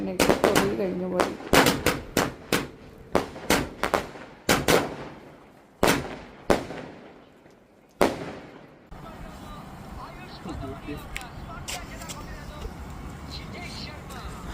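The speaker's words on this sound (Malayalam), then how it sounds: "ഇന്ന് രാത്രിയാണ് ഞങ്ങൾ പടക്കമൊക്കെ പൊട്ടിച്ചത്" Firecrackers bursting at night during Vishu celebrations, a rapid string of sharp, loud bangs with echoing tails, followed by a lingering crackle and distant popping from further away.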